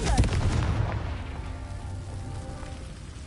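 A Confringo blasting spell exploding in the Hogwarts Legacy video game, a heavy booming burst that rolls into a rumbling tail and fades over a few seconds.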